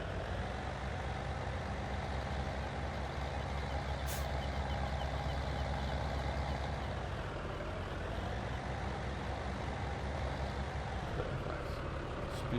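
A New Holland tractor reverses to line up with a trailer for hitching, its engine droning steadily throughout with a faint high beep near the middle.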